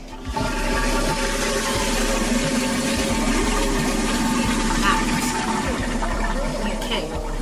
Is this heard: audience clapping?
no